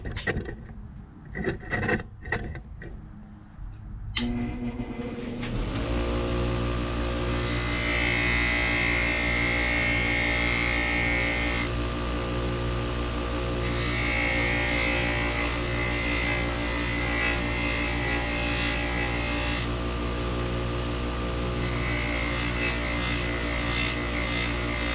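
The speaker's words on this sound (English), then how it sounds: "Then we can dress this down on a Scotch-Brite wheel." A Scotch-Brite wheel spins up and dresses down a Rolls-Royce Springfield valve rocker, giving a steady loud whine with a grinding, abrasive rub that swells and eases as the part is pressed on and pulled away, after some brief handling clatter.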